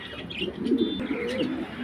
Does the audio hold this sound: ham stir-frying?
no